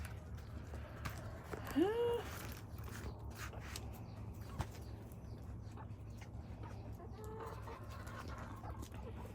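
Chickens in an enclosed garden coop, with a brief rising squawk or cluck standing out over steady low background hum and faint scattered clucks.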